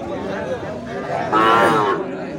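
A Sahiwal breed bull at a busy cattle market gives a drawn-out, close bellowing moo over a steady background murmur of crowd noise.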